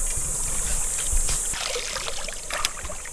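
A boat with its motor mounted at the back churns and hisses steadily alongside splashing water, with no voices.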